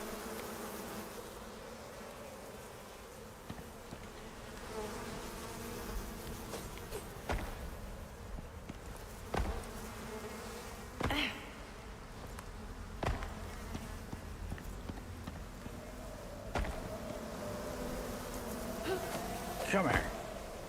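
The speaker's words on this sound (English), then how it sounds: "Oh, come on, bees." Bees buzzing in the survival game Icarus, a steady insect drone with occasional louder passes as they fly close, under faint background game noise and sparse clicks.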